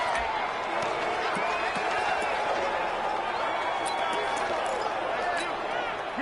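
Stadium crowd cheering at an American football game ahead of a big third down, a sustained broad roar that stays even and fairly loud from start to finish.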